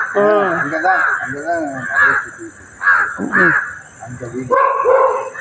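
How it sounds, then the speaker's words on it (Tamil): Several crows cawing harshly in repeated overlapping bursts, loud and close outdoors near a house while an eagle flies overhead, with people talking underneath. "எவ்வளோ காக்கா வருது அதான் ஒரு கழுகு மட்டும்தான் பறக்குது"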